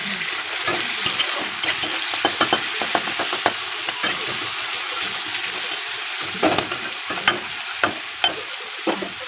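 Potatoes fry in oil with whole cumin in a kadai, a constant sizzle broken by repeated scraping stirs of a spatula against the pan, close and fairly loud, without talk.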